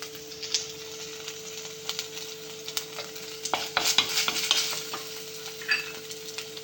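Chicken parts frying in a hot pan with crushed aromatics and curry leaves, a steady soft sizzle broken by scattered scraping and clinking stirring strokes, close and fairly quiet with no voices.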